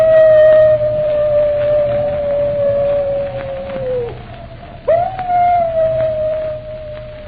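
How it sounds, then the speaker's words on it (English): A wolf dog's long, wavering howl in an old-time radio drama, a single sustained tone that sags and breaks off, then rises again into a second howl. "that howl, it's the wolf dog. Moran's dog."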